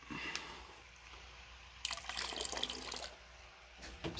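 A little liquid is poured into a bucket of room-temperature water, a soft close splashing trickle lasting about a second amid quiet background drips and rustles.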